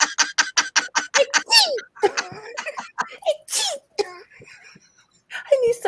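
A person imitates someone's odd sneezing with a rapid string of sharp, explosive bursts, mixed with laughter and chatter from a small group nearby.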